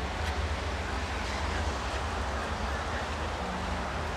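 Sea waves wash in steadily at Flecheiras beach, with fishermen and small boats nearby, making a constant broadband rush mixed with wind buffeting the microphone and no clear breaks.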